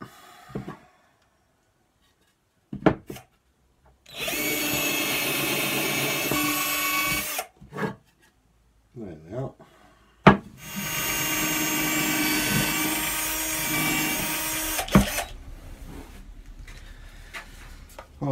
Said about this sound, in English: I'm pre-drilling holes as we go through the bits of wood